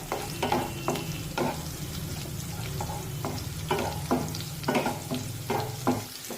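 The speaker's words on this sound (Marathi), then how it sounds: "मिरची आपल्याला अगदी व्यवस्थित परतून घ्यायची" Green chilies sautéing in a pan for a potato fasting dish, a steady frying sizzle with repeated scraping stirs of a spoon against the pan, close and alone.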